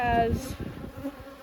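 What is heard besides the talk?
honey bees buzzing in a hive frame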